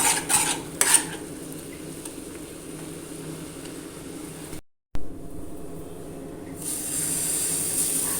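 Chilly hot garlic sauce cooking in a pan for dosa, a spoon stirring and scraping against the pan with soft sizzling, a few clinks near the start and a brief gap before a louder hiss.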